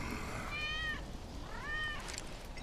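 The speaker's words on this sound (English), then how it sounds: "That's Wedge's cat." A cat in the Final Fantasy 7 Remake video game gives two drawn-out meows in a row, heard clearly and close over a steady background hum.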